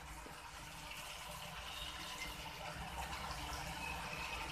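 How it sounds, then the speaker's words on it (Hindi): Water trickles and splashes steadily as it is poured into red food colouring for a kadai paneer gravy, a continuous soft liquid wash with no talk. "हम इसमें थोड़ा पानी मिक्स करेंगे।"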